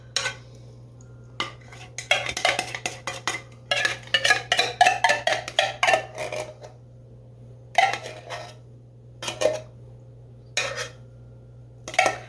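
A spoon scrapes and clinks against a can and pan while cream of mushroom soup is added over a pork roast, in irregular bursts of close metallic scraping and tapping over a steady low hum, with no talking.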